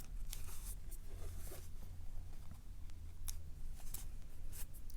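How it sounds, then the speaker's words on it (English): Scissors trim loose threads off a finished fabric face mask, a series of quick, close snips over a low steady hum, with no talking. "And just trim all those threads off."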